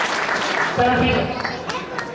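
Audience applause at a seminar breaking out as a burst of clapping under a speaking voice, moderately loud and settling into a steady patter.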